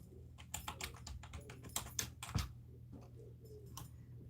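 A computer keyboard clatters under fast, irregular typing, with bursts of keystrokes and short pauses, quiet and close in an otherwise silent room.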